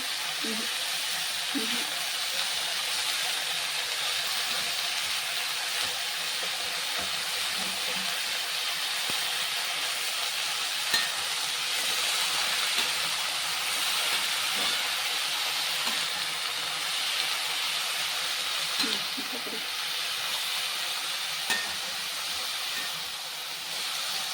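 Cabbage sautéing in a pan for a Chettinad-style poriyal, giving a steady hiss and sizzle throughout with faint occasional stirring scrapes, a continuous even texture.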